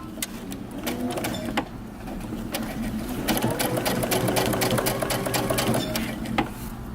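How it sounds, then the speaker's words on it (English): Sewing machine stitching along a marked line on a side-split hem, a steady mechanical whir with rapid needle chatter running continuously, briefly pausing around the start then resuming, close and clear. "now we're going to head over to the sewing machine and stitch along the line"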